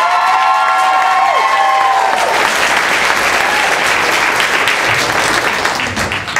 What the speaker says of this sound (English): Make some noise for Mr. Matt Vanderpool!